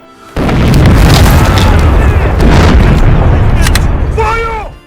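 A heavy cannon shell explodes in a war film as German troops shell a trench, a loud sudden boom followed by a long rumbling roar and debris that fades out over several seconds.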